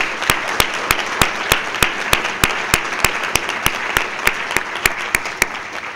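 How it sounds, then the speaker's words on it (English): An audience claps for honored National Merit Scholarship semifinalist students, a steady loud wash of applause with sharp individual claps standing out in a regular beat throughout. "let's give all of our students a round of applause for their accomplishment thus far"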